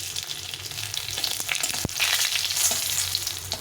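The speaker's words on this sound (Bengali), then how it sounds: "আমি একটু লাল করে ভেজে নিয়েছি" Panch phoron and two torn bay leaves crackle in hot oil for a winter vegetable dish with flat beans, aubergine, radish and tomato. The dense, close sizzle swells midway, marked by a few sharp ticks of stirring.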